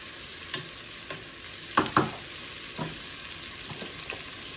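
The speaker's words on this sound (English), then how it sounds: "A heaping tablespoon of minced garlic." Minced garlic sizzling in melted butter in a pan, a soft low hiss broken by several sharp spoon taps and scrapes, close and quiet with no voices.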